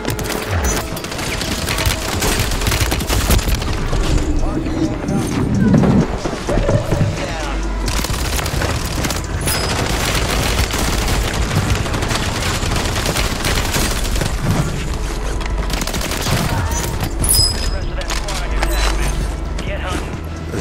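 Rapid STG44 assault rifle fire in Call of Duty on Rebirth Island, with repeated bursts crackling over dense game noise, a voice talking throughout.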